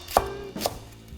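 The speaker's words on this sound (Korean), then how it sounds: "대파는 그냥 이렇게 어슷어슷하게 썰어주시면 돼요." A kitchen knife cuts a green onion on the diagonal for a mushroom and perilla seed soup, two crisp chops on a cutting board about half a second apart, close and clean with no talking.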